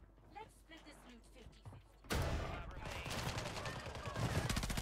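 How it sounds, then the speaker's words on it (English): Gunfire in Call of Duty Warzone 2 starts abruptly after a stretch of quieter game sound, then rattles on as dense, sustained rapid shots, loud and close. "You shoot, I shoot, you shoot, I shoot."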